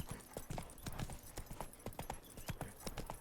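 Roach the horse in The Witcher 3 trots with steady, rhythmic clip-clop hoofbeats, quite faint and close, over a low ambient backdrop with no speech.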